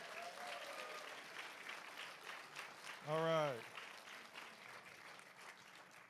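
A convention audience applauds a panelist being introduced at a retro gaming event, the clapping steady and moderately distant throughout, with a voice speaking briefly over it partway through.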